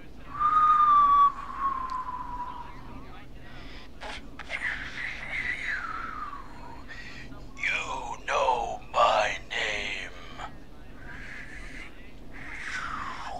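A man whistles a wavering, melodic tune in the horror radio game Killer Frequency, heard faint and thin amid scattered talk and sharp broken sounds.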